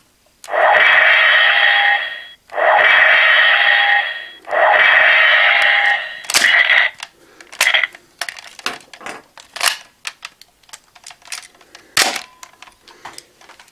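Electronic toy blaster trigger sounds: three long, loud warbling alarm-like tones in a row, then a scatter of shorter sharp electronic zaps and clicks.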